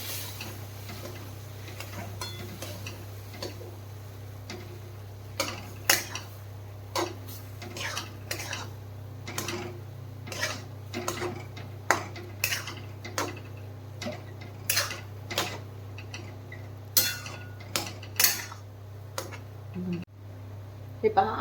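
Milk being stirred into sheera in a pot to break up lumps, repeated spoon clinks and scrapes against the metal pot over a steady low hum.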